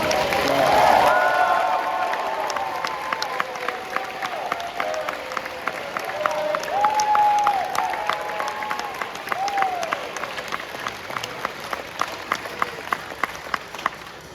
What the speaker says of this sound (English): please stand up so we can give you guys a round of applause too